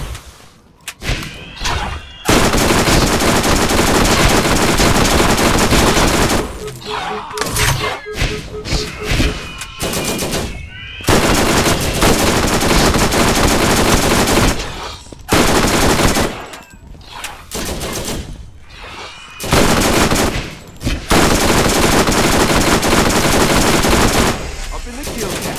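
Rapid automatic gunfire from the video game Borderlands, loud, close bursts of machine-gun fire broken by brief pauses over roughly half a minute of combat.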